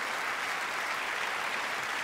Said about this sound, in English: I know the polite clap of people who've never heard of me is fine